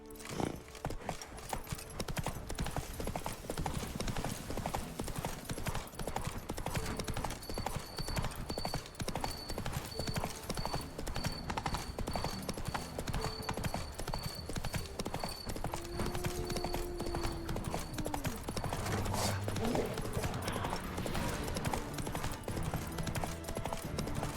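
Horse hooves galloping in The Witcher 3: Wild Hunt, a fast, unbroken clip-clop rhythm that runs loud and close throughout, with faint game music and a brief whinny-like tone late on.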